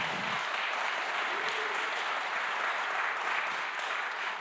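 A political debate audience claps steadily, a dense wash of applause that stays loud for the whole stretch with no pause.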